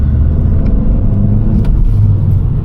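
A Volkswagen Scirocco heard from inside as it drives and accelerates, with a loud, steady low engine drone and road rumble filling the cabin and no one speaking.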